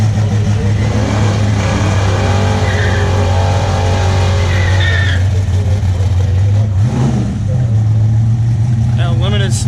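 A 1995 Ford Mustang drag car doing a burnout, its engine droning loud and steady as the tires spin, with a brief dip and surge partway through and people talking faintly beneath.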